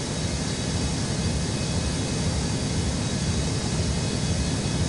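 Airliner taking off from runway 4 at Washington's DCA airport, a steady, loud broadband jet roar with rumbling low end that holds evenly throughout, with no voices.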